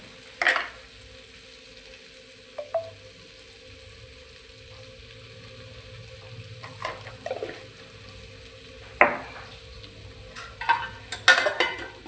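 Okra (bhindi) fries in a pan for a dry bhindi fry, with a faint low sizzle and scattered spatula scrapes and clinks as it is stirred, growing busier toward the end.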